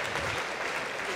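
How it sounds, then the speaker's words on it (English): A short burst of applause, steady and fairly quiet, like a crowd clapping from a distance. "Another round of applause for..."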